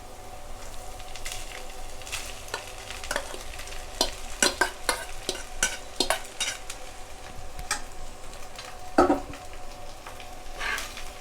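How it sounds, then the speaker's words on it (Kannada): Cooked rice being stirred into an onion and garlic masala in a pan: repeated scraping and clinking of a spoon over a low sizzle, louder in bursts near the middle of the stretch, with no talking. "ಮಸಾಲೆ ಎಲ್ಲ ಚೆನ್ನಾಗಿ ಮಿಕ್ಸ್ ಆಗೋ ಥರ ನಿಧಾನವಾಗಿ ಕಲಿಸ್ಕೊಳ್ಳಿ."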